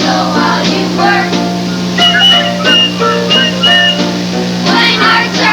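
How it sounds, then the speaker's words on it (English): A bright whistled melody runs through the song with music backing it, rising and falling in short, repeated phrases at steady volume across the passage. "So whistle while you work."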